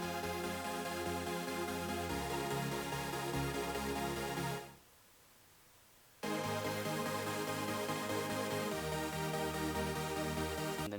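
Thick supersaw synth chords made in FL Studio, a sustained harmonic stack that shifts chord around two seconds, drops out briefly near five seconds, then returns loud and full with no talking.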